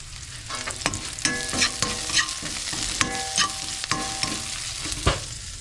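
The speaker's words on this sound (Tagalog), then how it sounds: "Lutuin muna natin yung sibuyas na maigi." Onions sautéing in a pan while cooking tilapia escabeche, with a steady sizzle broken by sharp clinks and scrapes of stirring against the pan, close and alone.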